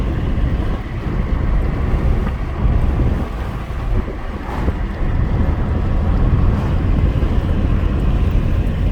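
Wind rushing and buffeting through an open car window while driving, a steady loud roar with low rumble and no talk.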